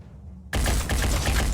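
Gunfire in the tactical game Phoenix Point bursts in suddenly after a near-silent moment, a loud, rapid string of close shots rattling on without pause.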